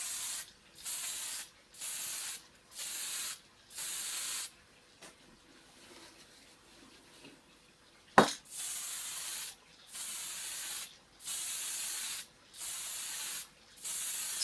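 Short bursts from a spray can of primer coating small Bolt Action German infantry miniatures: a row of even, close hissing blasts, a quiet pause with a sharp click, then another run of regular sprays.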